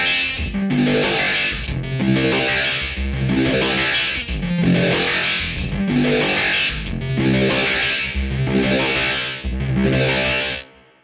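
Warbling, stepped electronic tones from a Source Audio Ultrawave guitar pedal pulse in a steady rhythm about once per second, a gritty, robotic chiptune-like texture like an old Speak and Spell, with no voices.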